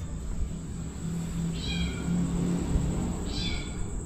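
Two cats meow in a cemetery, two short rising calls about two seconds apart, heard fairly near over a steady broadband background hiss.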